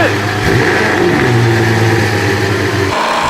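Nissan race cars launch at the start of a race, engines revving hard and rising in pitch together before settling into a steady high drone, loud and close, with a voice briefly audible over them.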